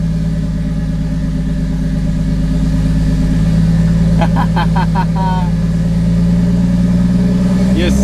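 A manually swapped Toyota Soarer's engine idles steadily and close by, rising into a sustained higher hum as the tires are spun, with brief squeaky chirps partway through and a background voice speaking.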